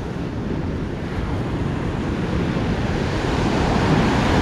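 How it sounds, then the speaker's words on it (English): Ocean surf rumbles and crashes continuously, loud and broad, with wind buffeting the microphone and the roar building slightly toward the end. "Big wave!"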